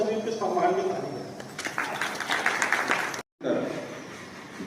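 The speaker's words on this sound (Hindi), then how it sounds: "सभी के सम्मान में ताली दें।" An audience at a free health camp organised by the Sindhi community claps in honour of the doctor, a dense, fairly close round of applause mixed with talk that cuts off abruptly, then resumes briefly.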